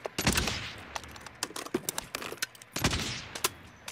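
Gunfire in Warzone: rapid bursts of automatic fire and scattered single shots, loud and close, in uneven clusters across a few seconds.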